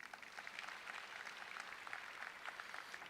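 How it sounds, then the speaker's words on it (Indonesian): A church congregation claps at a Sunday service, a soft, distant patter of many hands that runs evenly throughout, faint and without any voices on top. "Beri tepuk tangan saudaraku."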